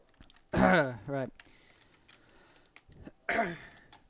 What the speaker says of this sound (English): I need to carry on clearing my throat, otherwise I'll not be able to talk.